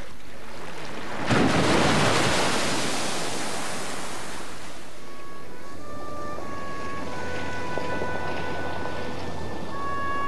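An Icelandic geyser erupts with a sudden roaring blast of water and steam that settles into a steady broad rushing hiss. Faint tonal whistles and hums from the surroundings appear later.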